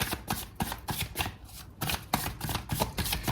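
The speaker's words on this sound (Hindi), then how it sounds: "एक बार हम शफल और करेंगे" A tarot deck being shuffled by hand during a love reading, giving quick riffling bursts of card noise at an irregular rhythm. The sound is close and moderately loud, with no voice over it.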